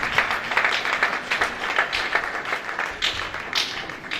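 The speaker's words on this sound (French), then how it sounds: "offrons des acclamations à Dieu à l'œuvre" Scattered clapping and cheering rise from a church youth conference crowd at a national convention in Benin, with uneven bursts of claps over several seconds.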